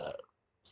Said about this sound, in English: That's what makes me burp.